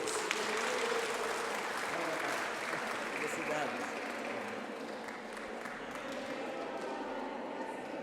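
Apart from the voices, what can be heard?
applause at a Catholic pastoral assembly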